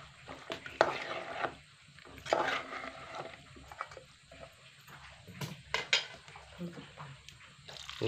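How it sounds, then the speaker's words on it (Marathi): Potatoes and cashew seeds are stirred in a cooking pot with scraping, clinking spoon strokes over a low sizzle, recorded close and fairly quiet with brief talk in the background. "आता ह्याच्यामध्ये या बटाट्यामध्ये एकदम असं मिसळून घेऊया."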